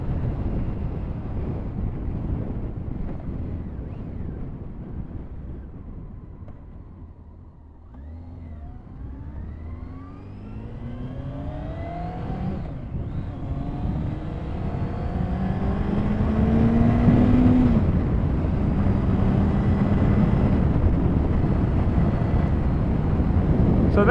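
A 2000 Honda Fireblade motorcycle on the move, its engine note rising and falling through gear changes under steady wind rush, with long climbing whines as it accelerates.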